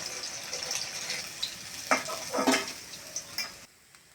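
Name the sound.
fish frying in pan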